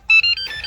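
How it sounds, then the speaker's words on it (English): A Chrysler Town & Country or 300 (2008–2010) sounds a short, clear electronic chime confirming a replacement key fob has paired, a brief two-part tone heard up close. "press this once more, and you should hear a chime sound"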